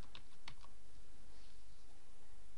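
Typing on a computer keyboard while entering a database name, a short burst of a few sharp key clicks near the start, followed by quiet room tone.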